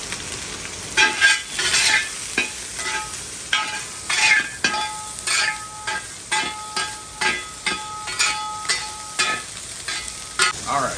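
Pre-cut hickory smoked sausage fries in a pot for jambalaya. A steady sizzle is broken by regular, rhythmic scraping strokes of stirring, up close and fairly loud, with no talking.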